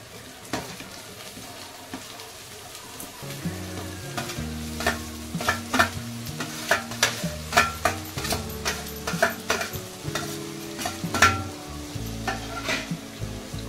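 Spices fry in a pan and are stirred with a spoon, a soft sizzle building after a few seconds and overlaid by frequent scraping strokes and light clinks in a steady working rhythm, heard up close without talk.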